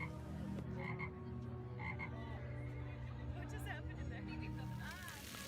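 Croaking from a giant chocolate frog window display at Honeydukes, a low repeated frog call that runs steadily throughout, mixed with crowd chatter and a busy theme-park din.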